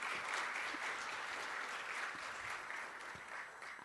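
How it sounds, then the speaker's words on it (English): Conference audience at an iOS developer event giving a round of applause, a dense, even wash of many hands clapping, moderately distant and steady throughout with no talking over it. "I would also like to ask you, before I start, for a big round of applause for Christian"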